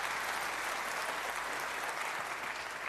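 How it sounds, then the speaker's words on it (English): A snooker crowd at the 2004 Masters applauds a good shot, a steady, even patter of many hands clapping that stays fairly faint and distant for a few seconds. "a generous round of applause from this terrific crowd"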